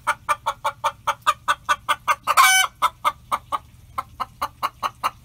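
A hen clucking on a permaculture homestead, a rapid run of short, evenly spaced clucks close by with one brief louder squawk partway through.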